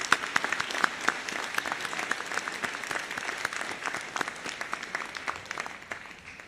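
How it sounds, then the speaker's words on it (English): A commencement audience at a university School of Business ceremony claps in a sustained round of applause, dense and fairly close, with scattered sharper individual claps and no talking. "let's give them another round of applause"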